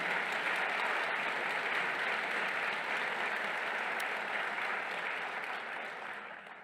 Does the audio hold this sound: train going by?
no